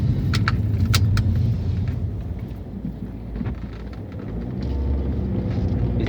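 Cabin sound of an Alfa Romeo GT cruising at about 30 mph on a road, a steady low engine and road rumble filling the clip with a few brief rattles or clicks near the start.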